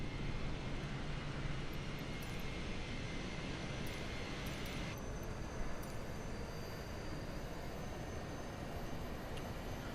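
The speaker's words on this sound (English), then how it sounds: "You can go outside, have a listen to lovely APU." Simulated Airbus A320 (A32NX) auxiliary power unit running, a continuous dense low rumble and hiss with a steady high whine, unbroken for the full stretch and no speech over it.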